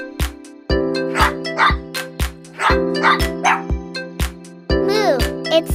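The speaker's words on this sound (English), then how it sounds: "Woof woof, it's a dog." A dog barks repeatedly in short, loud bursts with a few higher yips, set over a steady sustained musical backing.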